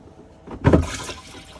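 The grey lever on a 2013 Auto-Trail Tracker EKS motorhome's cassette toilet slides across to open the blade, giving one short, close clunk with a hollow, watery rush that fades out quickly.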